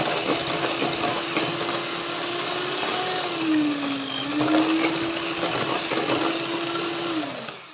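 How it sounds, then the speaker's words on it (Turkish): An electric hand mixer whisks eggs, sugar and boiling water for a layer-cake sponge: a loud, continuous motor whine that dips in pitch midway, then winds down at the end, with no voices. "Şimdi üzerine yarım çay bardağından biraz eksik kaynar suyumu ilave ediyorum. Ve tekrardan çırpacağım."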